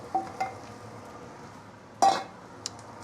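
Rice goes into a pan of half-cooked egg for lap cheong fried rice. A few light, close clinks of a spatula are followed by one brief scraping toss and a final tap over a soft background hiss.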